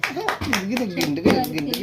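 A child claps hands in a string of sharp, quick claps, close by, while a voice talks and sings over them throughout.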